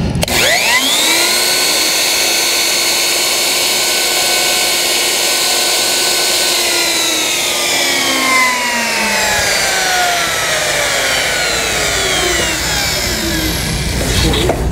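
A plunge router cuts a mortise in wood, its loud high whine dipping under load as the bit plunges and sweeps back and forth. The motor then spins down with a falling pitch and starts again, close and continuous.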